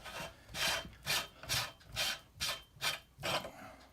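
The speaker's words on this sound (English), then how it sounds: "Lock nut comes off." The lock nut of a Weston #12 electric meat grinder is unscrewed, giving eight evenly spaced scraping, rasping turns of metal thread close by.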